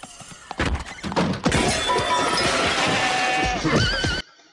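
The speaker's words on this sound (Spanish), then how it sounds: "¿por qué te escucho un caballo?" A horse neighs loudly over a busy, crashing background of clattering and breaking sounds, with a whinny rising near the end before it cuts off.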